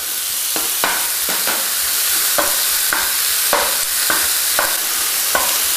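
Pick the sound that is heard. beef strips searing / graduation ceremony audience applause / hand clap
beef strips searing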